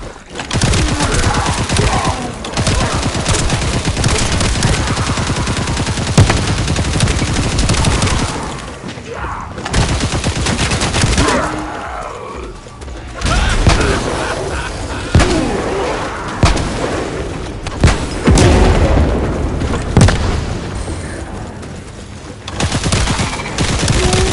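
Sustained automatic gunfire and heavy explosions fill a combat scene in The First Descendant, loud dense fusillades with brief lulls and occasional booms, a shouted voice briefly heard among them.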